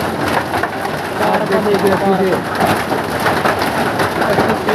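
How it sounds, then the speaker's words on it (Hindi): Heavy rain mixed with hailstones pours down in Saraswati Nagar as a dense, steady hiss, while someone talks over it. "आज आप देख सकते हैं सारस्वती नगर में भारी वर्षा जिसमें ओले ही ओले आप देख सकते हैं"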